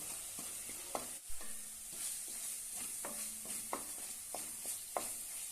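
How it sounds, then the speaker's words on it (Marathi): Potato curry masala with half a spoon of garam masala sautéing in a pan, a soft continuous sizzle broken by regular spatula scrapes and taps against the pan, close and quiet, no talk. "अर्धा चमच गरम मसाला छानपैकी परतून घेऊया"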